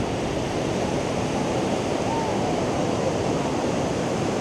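Steady ocean surf rolls in at Croyde Bay, a surfing beach in North Devon, a continuous broadband wash of breaking waves with no distinct gaps, loud and close, with no one speaking.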